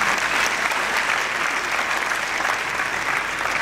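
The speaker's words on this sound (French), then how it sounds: "On peut acclamer pour eux?" A wedding audience applauds the bride's family with steady, close, continuous clapping filling the room.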